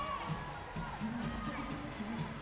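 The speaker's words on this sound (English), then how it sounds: "Again, a great crowd still filing in." Spectators fill a college gymnastics arena before a Maryland at Nebraska meet, producing a steady distant crowd murmur with scattered shouts and youthful cheers, and voices blending throughout.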